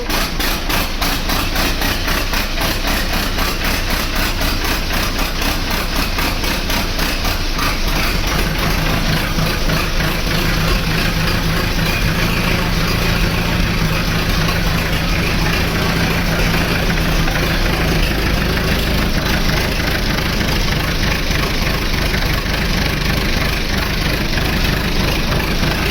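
An old standard Fordson tractor engine runs steadily at close range, a continuous low rumble with a rapid even firing beat and rattling mechanical knock throughout, no talking over it.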